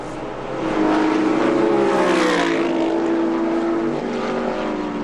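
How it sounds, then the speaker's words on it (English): A Chevrolet Monza and a turbocharged Porsche race car howl around the track at a historic racing event, their engines swelling loud and close, holding a rich wavering roar with shifting pitch before easing slightly. "They're very different engine notes."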